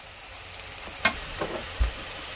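Curry leaves sizzling in hot oil with onions for mutton curry, a steady crackling fry with a few sharper pops and spits rising above the background hiss.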